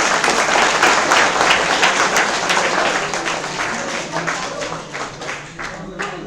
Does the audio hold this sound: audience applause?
yes